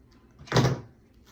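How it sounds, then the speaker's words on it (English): A single short snip of scissors cutting sewing thread while a zipper is sewn into a dress, close and brief, with quiet room tone before and after. "I'm gonna cut my thread."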